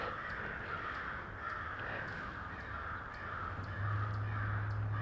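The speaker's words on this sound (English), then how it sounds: "Crows." Crows caw repeatedly at a distance over a steady outdoor background hiss, with a low rumble growing louder near the end.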